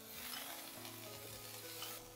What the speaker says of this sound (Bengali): এবার এর মধ্যে দিয়ে দেব সেদ্ধ করা চিকেনগুলো